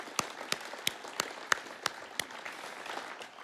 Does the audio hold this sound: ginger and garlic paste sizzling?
no